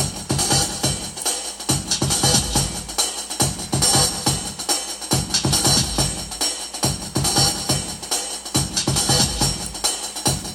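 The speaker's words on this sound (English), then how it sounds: "I've got a drum, I've got like a kick sound, and I've got the hi-hats." Dubstep drum loop built in Soundation, with a punchy kick and ticking hi-hats cycling in a steady repeating groove. The loop is loud and close, with no voices over it.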